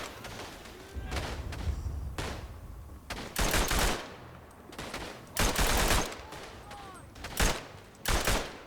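Bursts of machine gun fire in the World War I shooter Verdun, several short loud volleys spaced across the stretch, with booming gunfire and distant battle noise between them.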